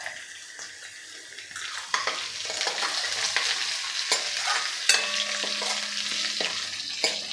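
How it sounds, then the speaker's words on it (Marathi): Crushed ginger and garlic sautéing in a pan, with a constant hot sizzle broken by repeated scraping and clinking as a spoon stirs through it, close and fairly loud. "आता हे आपल्याला 2 ते 3 मिनिटे परतून घ्यायचं, म्हणजे ज्याचा जो उग्र वास आहे तो निघून जातो।"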